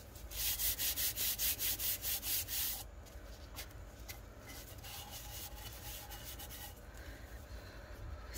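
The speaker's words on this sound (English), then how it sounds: "So, full hand burnish." Hand burnishing colored diamond dust onto a black tumbler with a gloved hand, starting with about a dozen quick, even rubbing strokes, then easing into a softer continuous scuffing with occasional scratchy swipes.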